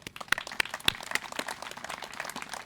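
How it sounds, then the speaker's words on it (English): Scattered, fairly quiet clapping from an audience at an outdoor groundbreaking ceremony for a community college workforce center, with individual claps standing out in a loose, uneven rhythm. "So I'd just like to give Dr. Kinlaw and his team a strong round of applause."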